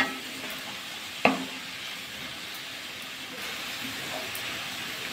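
Red amaranth greens being stirred with fried onions in a pan, giving a soft steady sizzle with faint scraping and one sharp utensil clack early on; no talking.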